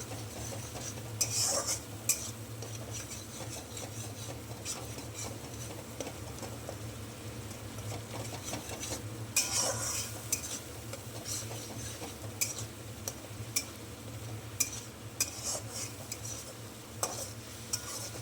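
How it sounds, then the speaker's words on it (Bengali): Spice paste with tomato being stirred in a pan, with steady scraping and clinking of a utensil against the metal, a low background hum, and faint sizzling throughout. "মশলাটা খুব সুন্দর করে কষিয়ে নেওয়া হচ্ছে"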